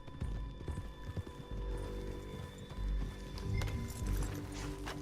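A horse's hooves pound in a quick rhythmic clip-clop at a gallop in Red Dead Redemption 2, fairly close, with a brief whinny-like snort amid the steady drumming.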